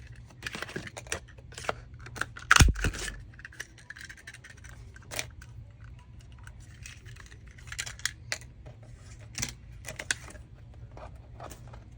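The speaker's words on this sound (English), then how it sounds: "Cut 2 circles out of this." Scissors cutting circles out of paper from an envelope for a junk journal project: scattered short snips and crisp cuts, close and fairly quiet, with one sharper, louder clack partway through.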